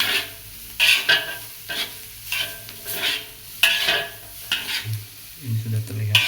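Spices stirred in a hot frying pan with a little sugar, bursts of scraping and clinking over a steady sizzle, close and fairly loud, repeating in irregular strokes.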